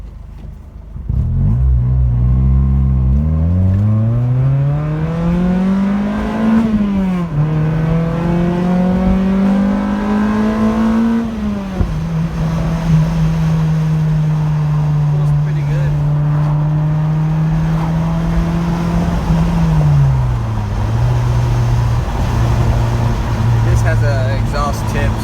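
A loud Acura RSX Type S engine without a full exhaust revs up and holds at high RPM, a raspy exhaust drone rising and falling steadily under continuous sound, close by.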